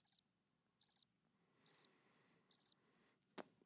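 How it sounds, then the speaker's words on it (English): Crickets chirp in four evenly spaced bursts of high trilling, with a soft low rustle beneath and a brief sharp click near the end. "Some crickets."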